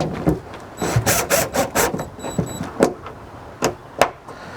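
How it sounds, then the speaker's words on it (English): Screws being driven back into the door of a 2016 Subaru Forester: a series of close, short scraping and ratcheting bursts in an irregular rhythm, some with a faint whine, no talking. "let's go ahead and put the screws back in."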